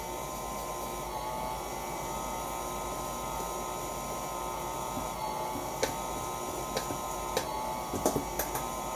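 An electric mixer runs on low through Jamaican Easter bun batter, a faint steady mechanical whir with a few small clicks and knocks toward the end.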